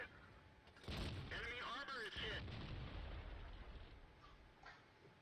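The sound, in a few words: tank cannon shots in a video game, FV201 A45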